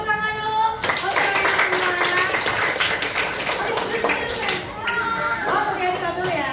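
Classroom applause after a teacher's coaching session greeting, a steady burst of many hands clapping lasting several seconds, with children's voices and chatter mixed in.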